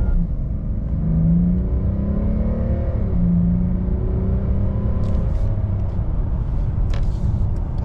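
Mercedes S-Class car accelerating, heard from inside as a smooth engine rumble climbing in pitch through gear changes, steady and fairly loud, with a few faint clicks near the end.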